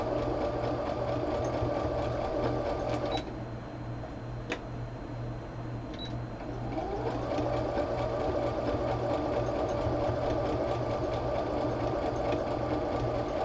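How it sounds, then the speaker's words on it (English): A sewing machine stitching pieces of fabric together for a crumb quilt square, running in a fast, steady mechanical ticking rhythm up close, with a brief slowdown partway through before resuming at full speed. "I'm going to sew that and get that one stitched together"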